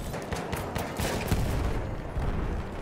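Dense gunfire from the Battlefield 1 game, with rapid overlapping shots blending into a loud, continuous fusillade of pops and cracks over heavy battle noise.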